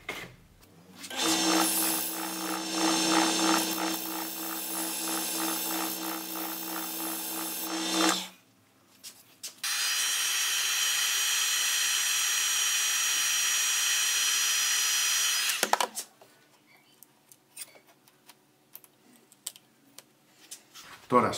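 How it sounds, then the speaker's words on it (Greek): A wooden eccentric jewelry piece being sanded on a wood lathe gives a loud steady whirring hiss for about seven seconds, breaks off briefly, then returns as a second sustained run before stopping into quieter handling noise. "Πάμε για τρίψιμο."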